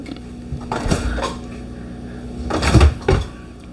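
A soft-closing cabinet door in the kitchen of a Cedar Creek 40CFD destination travel trailer, two gentle muffled thumps a couple of seconds apart over a faint steady background hum.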